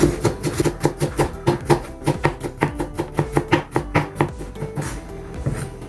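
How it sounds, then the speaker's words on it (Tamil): Ginger, green chilli and coriander leaves being finely chopped with a knife on a board for momo chutney, a quick steady run of close, crisp knocks repeating throughout with no talking. "இஞ்சி, பச்சை மிளகாய், கொத்தமல்லி தழை, இது எல்லாத்தையுமே கட் பண்ணிக்கலாம். நல்லா பொடியாக கட் பண்ணிக்கோங்க."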